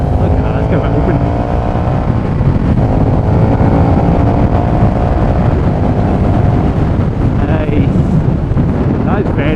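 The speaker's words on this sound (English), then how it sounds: "just going through the gears there, quick shifter smooth as anything" A 2020 KTM 1290 Super Duke R motorcycle accelerating hard through the gears with a quick shifter, its loud engine drone rising steadily under heavy wind noise from a close, moving rider.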